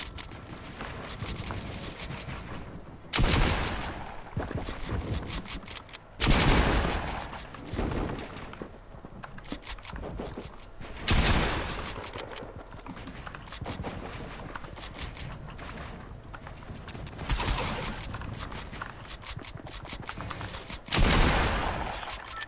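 Several loud bursts of gunfire ring out in Fortnite, each one spaced a few seconds apart over a constant background of game sound. No talking is heard.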